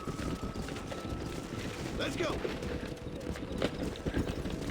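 Galloping horses in Red Dead Redemption, a herd of wild horses being driven together, their hooves drumming steadily under loud game ambience while a man calls out over them.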